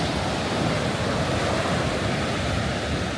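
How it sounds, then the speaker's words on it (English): Big ocean waves roll onto a black sand beach in Iceland, a steady loud surging roar mixed with wind buffeting the microphone, with no talking. "Look at these waves though."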